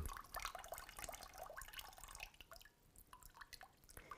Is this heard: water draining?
yes